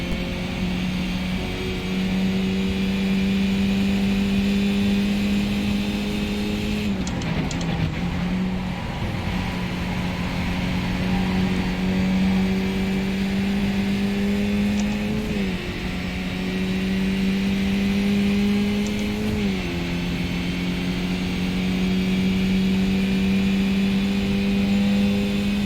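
Race cars roaring around the Okayama circuit in a Skippy League sim race, a steady loud engine drone with pitch shifts as cars lift and accelerate through corners, continuous with no talk.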